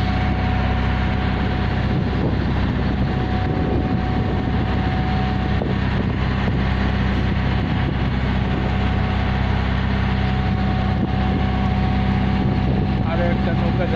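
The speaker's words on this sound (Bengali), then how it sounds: "আরো একটা নৌকা যাচ্ছে এদিকে" Boat motor droning steadily on Hatirjheel lake, a continuous low rumble throughout with no clear approach or fade, while a voice speaks now and then.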